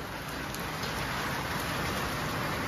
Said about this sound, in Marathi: गारा पडत्या पंढरपूर मध्ये पहिल्यांदा गारा पडल्या